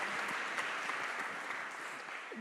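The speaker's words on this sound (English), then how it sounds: "Please give him a round of applause." Conference audience applause at re:publica welcoming a guest onstage, a steady, fairly quiet spread of clapping heard from a distance.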